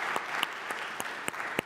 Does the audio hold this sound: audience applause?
yes